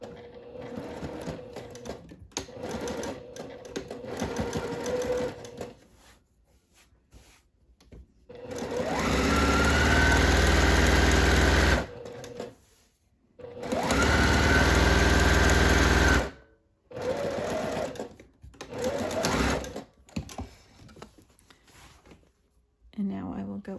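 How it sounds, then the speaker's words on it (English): A sewing machine stitching a half-inch seam along the top of a fabric garment, running in two long loud bursts of fast buzzing stitches separated by pauses, with quieter handling noises and some talking between. "I'm going to sew the top at 1/2 inch"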